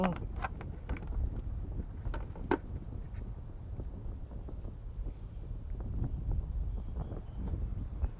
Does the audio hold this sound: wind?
yes